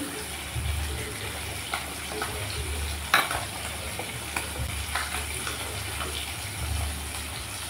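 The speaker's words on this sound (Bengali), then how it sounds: "এদিকে আমি মাছগুলো ভেজে নিচ্ছি।" Fish frying in hot oil for a Bengali tomato-mustard fish dish, a steady close sizzle running throughout with a few brief clinks and stirring sounds.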